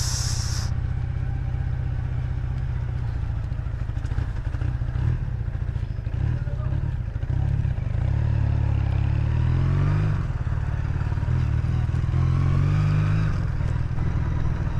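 A 40-year-old motorcycle engine, long left unused, putters and chugs steadily as it rides along, the throttle rising and falling with rough, clattery revs close up.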